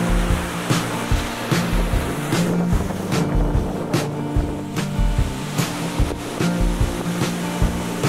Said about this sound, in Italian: Guardate la prima cascatella.